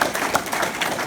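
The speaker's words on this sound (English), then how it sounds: "Let's give all of our first degree black belts one more round of applause" Round of applause for first degree black belt students at a martial arts ceremony, steady dense clapping from a crowd throughout, fairly close and loud.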